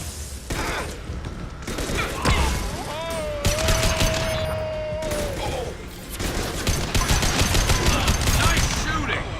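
Mass Effect 2 gameplay brings rapid bursts of game gunfire, loud and close, with dense repeated shots breaking off and resuming, a rising electronic whine in the middle and other game sounds around it.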